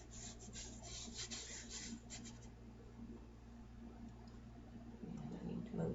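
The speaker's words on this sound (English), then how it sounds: "I can burnish it around. Make sure that I get good contact all over this tag." A tag burnished down for good contact, a soft dry rubbing and scraping that comes in close repeated strokes, louder at first and then easing into quieter scratching.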